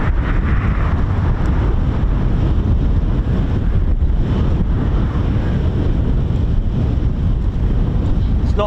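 Strong wind at RAF Coningsby buffets the microphone in a loud, constant low roar that continues without a break.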